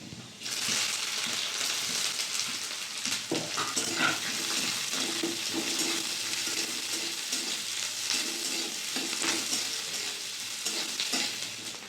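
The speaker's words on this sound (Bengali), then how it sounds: "পেঁয়াজটা হালকা করে ভাজা হয়ে গেছে" Chopped onion, added after garlic, frying in a pan for a Bengali jhinge bata (ridge gourd paste) dish, a steady broadband sizzle throughout with intermittent scraping clicks of stirring, close and fairly loud, no talking.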